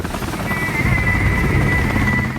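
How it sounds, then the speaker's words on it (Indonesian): Close helicopter with rapid rotor thumping under a steady high engine whine, loud and continuous. "helikopter bantuan tiba."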